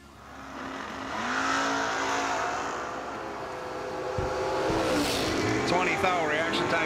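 Drag race cars, including a Mustang Roadster, rev and launch at the strip, engines swelling into a loud, rising roar over a few seconds with a sharp crack partway through, while an announcer talks over the noise.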